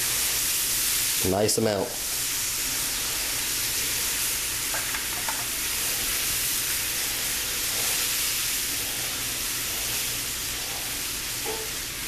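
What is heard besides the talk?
milk added to hot pan for white gravy, sizzling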